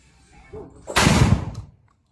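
A single loud gunshot at an outdoor firing range in San Leonardo, Nueva Ecija: one sharp blast with a short rumbling decay, preceded by a brief, quiet voice.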